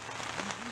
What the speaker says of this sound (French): La pluie vient de tomber à flot